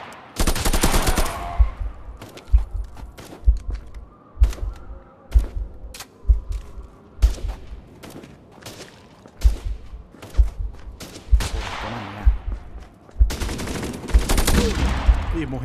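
Gunfire in the VR co-op shooter Contractors, played on an Oculus Quest 2: a steady string of sharp, loud single shots, roughly one per second, with denser rapid bursts toward the end.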